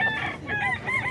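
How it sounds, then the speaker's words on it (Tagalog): A White Night Peruvian gamefowl rooster crows loudly and close by, one drawn-out crow with wavering harmonic pitch filling the clip, over a low background murmur. "Ang gandang manok din mga idol, oh."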